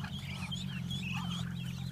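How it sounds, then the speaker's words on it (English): Ducklings mixed with chicks call in a chorus of high quacks and peeps, with continuous overlapping chirps throughout and a steady low hum beneath. "There's chickens mixed with ducks."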